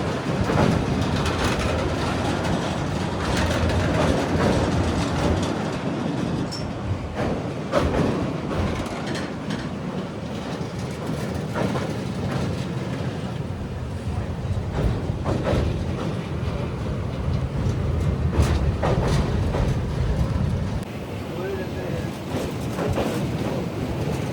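A train rumbles steadily across a bridge over water with a continuous clattering roar and wind buffeting, loud and close throughout, with no pauses.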